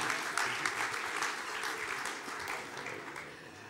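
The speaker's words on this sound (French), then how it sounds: "je vous demande un tonnerre d'applaudissements pour la Gazette avec Papé Amadou Fall" Audience applause greeting the team of the Gazette newspaper at a press freedom event, a steady dense clatter of many hands sustained throughout at moderate volume, with no one speaking over it.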